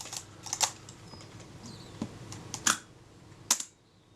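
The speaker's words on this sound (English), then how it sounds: "I could hear that was very much a two-stage shutter." A Retina Reflex type 025 camera's faulty two-stage shutter release clicks a few times in quick two-part snaps, sharp and close against a quiet background hum.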